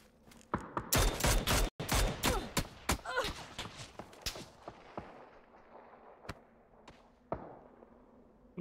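Rapid bursts of video game gunfire, sharp cracks clustered early then spacing out into isolated shots, with echoing tails between them.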